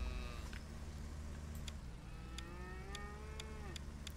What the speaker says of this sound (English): so we can purchase all the cows we need. There we go, 45 cows.